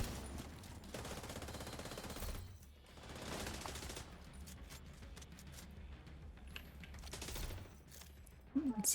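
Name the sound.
gunfire in a video game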